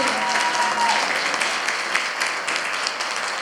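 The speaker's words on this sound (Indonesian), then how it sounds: "Tepuk tangan untuk STKIP." An audience claps for STKIP at a cultural expression workshop, a dense, steady roar of many hands close by that runs throughout the stretch without easing.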